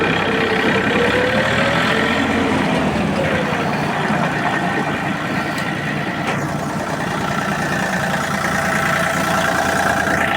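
A Japanese ISEKI TU225 mini tractor fitted with a rotary tiller runs with a steady, loud, close engine drone, a continuous mechanical rumble without pauses or talk.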